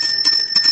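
Small bells ring brightly and close in a brief metallic jingle with a sustained high ringing tone, short and fairly loud, with no voices.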